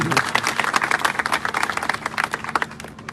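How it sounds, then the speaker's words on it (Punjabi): Loud applause from a crowd at a large public rally in Talwara, dense rapid clapping throughout that tapers off near the end. "ਹਾਂ ਜ਼ੋਰਦਾਰ ਤਾੜੀ ਸਾਡੇ ਸਾਰੇ ਸਾਥੀ"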